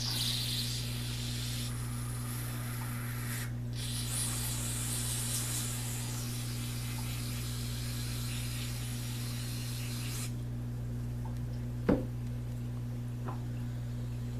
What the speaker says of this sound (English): We'll just kind of hose this out.